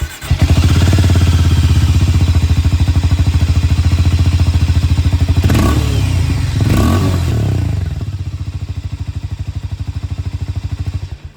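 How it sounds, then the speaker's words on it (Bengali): Harley-Davidson X440T, a 440cc single-cylinder motorcycle, idling with a loud, steady thumping exhaust close by, blipped through two quick revs in the middle before settling back to a lumpy idle. "আপনাদেরকে আমি একবার এক্সস্ট সাউন্ডটাও শুনিয়ে দিই।"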